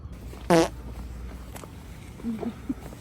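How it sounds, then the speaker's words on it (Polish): A short, sharp fart blurts out once near the start, followed by quiet background noise and a few faint, soft sounds. "Mały bąk, ale śmierdzi jak duży."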